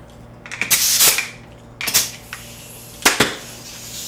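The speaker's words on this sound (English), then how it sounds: "I'm going to get a staple here" A staple gun drives staples into fabric on a carved mahogany chair seat, three sharp loud snaps about a second apart over a low steady hum.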